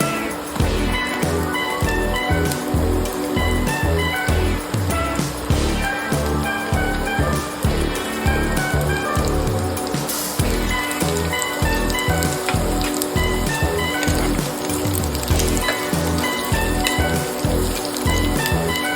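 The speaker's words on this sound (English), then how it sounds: "We'll just saute all the veggies." Onions and mixed vegetables for spring rolls sauté in a hot pan, giving a steady, dense sizzle and crackle that runs loud and unbroken throughout.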